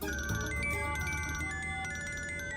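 A mobile phone ringtone plays, a bright electronic melody with repeating tonal notes that comes through clearly for a couple of seconds over a low background hum, with no speech.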